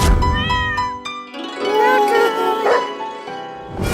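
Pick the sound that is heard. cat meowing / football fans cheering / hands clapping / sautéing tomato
cat meowing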